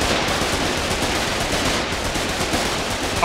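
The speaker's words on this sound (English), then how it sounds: "Right, heavy machine gun." Heavy machine gun fire in the war game Foxhole, a dense, loud, continuous burst of rapid shots running without pause, with no speech.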